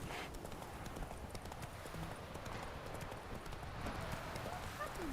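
Roach the horse trotting with steady clip-clopping hooves in The Witcher 3 video game, a continuous rhythmic beat mixed with ambient game sound and some voices.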